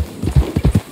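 Horse hooves clip-clop in Red Dead Redemption 2, several close, fairly loud steps in a quick uneven rhythm, with no one speaking.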